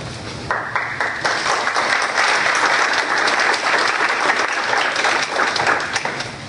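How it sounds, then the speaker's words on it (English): A large audience at a 9/11 remembrance event applauds student participants, with a sustained, loud, dense round of clapping that swells after a brief start and holds evenly for several seconds. "we certainly applaud you as well"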